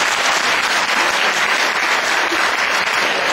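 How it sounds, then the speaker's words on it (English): Students applauding after a presentation at Edison Tech High, a broad continuous patter of many hands clapping at steady strength with no gaps or voices standing out. "Give yourself another round of applause"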